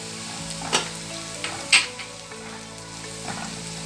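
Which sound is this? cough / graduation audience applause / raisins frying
raisins frying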